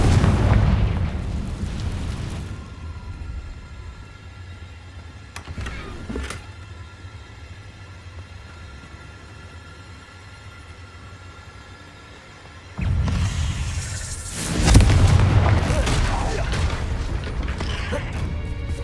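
Fire-blast spell explosions from Hogwarts Legacy bursting as booming, crackling blasts in two loud clusters at the start and end, with quieter ambient game sound between.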